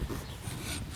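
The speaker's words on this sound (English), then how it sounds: "with the smooth side of your rasp, with the That smooth side? yep. Yep, and go from your heel to your toe." A farrier's rasp, smooth side, filed from heel to toe across a horse's hoof, gives steady close-up scraping strokes through about a second with no talk.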